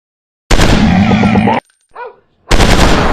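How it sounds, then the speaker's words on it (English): Video game machine gun fire in a Counter-Strike style match: two loud, close, sustained bursts split by a short gap, with a brief electronic chirp in the pause. "Fire! I'm shooting these fools up!"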